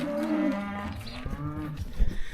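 A large-framed cow gives a long, low moo up close, followed by a second rougher, broken moo, with faint farmyard background noise.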